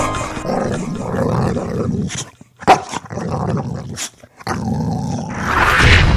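A dog barks loudly in sharp bursts between stretches of deep, rough growling, close by and with no talking.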